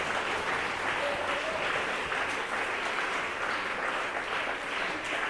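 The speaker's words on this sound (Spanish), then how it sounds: "Un aplauso para el Señor" Steady, even applause from a church congregation, moderately distant and uniform throughout, with faint voices mixed beneath the clapping.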